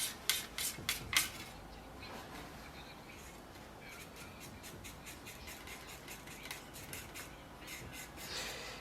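Filler mix being stirred in a small container before hardener is added, for repairing vulcanized cellulose fibre corner pieces: a burst of scraping clinks at first, then a softer continuous rubbing and scraping of the mixing tool, close up.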